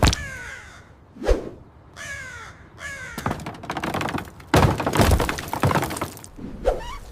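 A crow caws loudly several times while stones are thrown at it, its harsh calls alternating with sharp thuds, cracks and clattering impacts close by.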